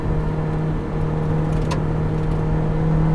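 A tuned Alfa Romeo 4C sports car drives along with a steady, close engine drone and whir, holding an even level with no speech.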